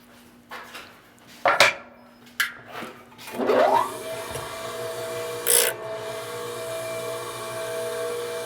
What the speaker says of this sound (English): next step is on the offhand grinding on the pedestal bench